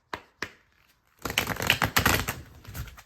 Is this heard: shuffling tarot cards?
yes